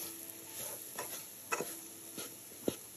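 Flour is stirred into sizzling pan juices to form a roux, a soft steady frying hiss broken by a few light scrapes and taps of the spoon against the pan.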